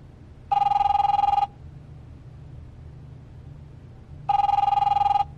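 A phone in The Wolf Among Us video game rings twice, each ring a loud, trilling electronic burst about a second long, separated by nearly three seconds of quiet low hum.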